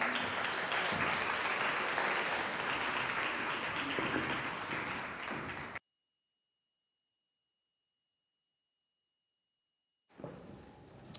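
A church congregation applauds the helpers in a thick, sustained round of clapping that carries on for several seconds, cuts to silence, then briefly resumes.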